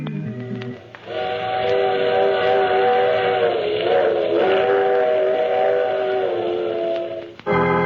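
A train's steam whistle sounds in a radio drama, a loud, sustained multi-tone blast of about six seconds that rises slightly in the middle and cuts off abruptly.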